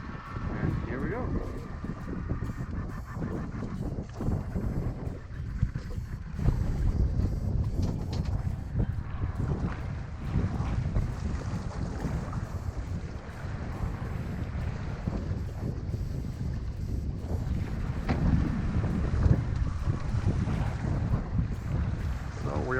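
Steady rushing wind and water noise aboard a sailboat under way with main and genoa drawing, broadband and continuous throughout, with a voice talking over it.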